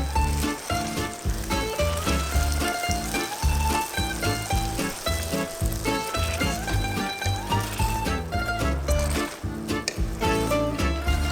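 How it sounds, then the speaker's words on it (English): Soft cooked tomatoes being gently mashed in a pan into a juicy sauce give a continuous wet sizzle with repeated squishing presses in an irregular rhythm, close and moderately loud, with no talking. "Now give those tomatoes a gentle mash until you get juicy and aromatic sauce."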